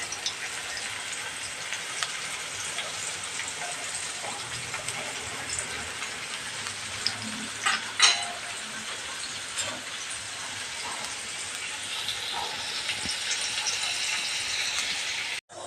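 Mustard seeds and cumin sizzling in hot coconut oil in a pan, a steady loud frying hiss with scattered pops and crackles running throughout.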